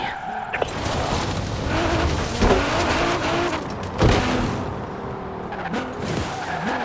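A car in Forza Horizon 4 drifts with the engine roaring continuously and tires squealing in rising and falling wails, loud and close, with some talking over it.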